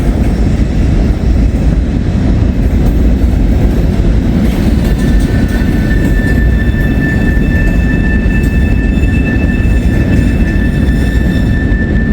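An Amtrak train creeps slowly through tight S-curves on elevated tracks, making a loud continuous rumble with a rising, sustained wheel squeal over the rails, close by.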